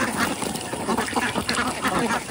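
Ducks quack loudly and repeatedly at close range while feeding on small fish caught from a pond, a quick run of nasal calls with no talking.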